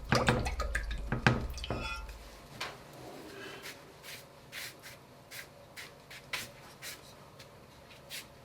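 Watercolour paintbrush rinsed in a water jar, with a burst of splashing and swishing at the start followed by a series of small, close drips and taps.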